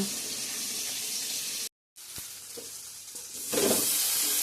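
Fish frying in oil in a pan, a loud bright steady sizzle that cuts out briefly, then resumes and swells again.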